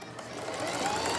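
A sewing machine runs a steady, fast whirring stitch while seaming the sides of a yarn bag, close and continuous throughout.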